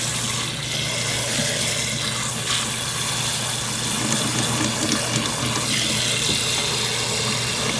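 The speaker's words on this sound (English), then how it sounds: "We're going to cover this good with water." Water running steadily from a tap into a cooking pot on the kitchen stove, a continuous close hiss and splash with a low hum beneath, no talking.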